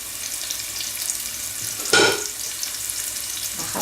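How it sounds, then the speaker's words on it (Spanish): Tender young garlic shoots sizzling steadily in a hot pan, a continuous broadband frying hiss with a brief louder burst of stirring near the middle, close and alone without voices. "Bajamos el fuego, que está muy fuerte, y lo sofreímos"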